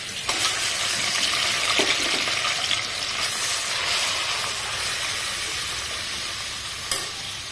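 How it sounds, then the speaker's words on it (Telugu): Grated bottle gourd, four cups of it, frying in a pan over a high flame, giving a steady, loud sizzle and hiss with occasional stirring scrapes throughout. "ఇప్పుడు ఈ పాన్లోనే ఫోర్ కప్స్ అనపకాయ తురుము వేసుకొని వేయించుకోవాలి"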